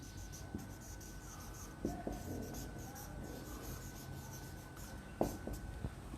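Pen writing accounting notes by hand on paper, faint scratching strokes with a few louder taps and scrapes, close and quiet against a low background hum.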